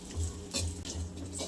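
Almonds frying in hot ghee for dried-fruit wheat-flour ladoos, a close, soft sizzle broken by scraping stirs and light clinks of a pan, without any voices.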